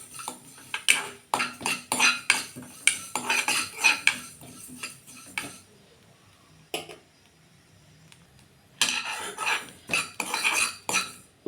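Sesame seeds are roasted in a pan and stirred with a metal spoon, giving bursts of scraping and clinking. The stirring stops for about three seconds, then resumes.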